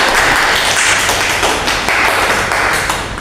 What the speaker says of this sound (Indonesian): Beri tepuk tangan untuk Mutia dan Setia.